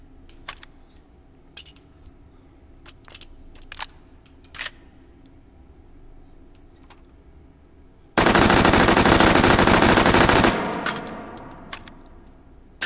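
An automatic rifle fires in the virtual reality shooting game H3VR: scattered light clicks of handling, then one loud, sustained full-auto burst lasting a couple of seconds that trails off, with no talking.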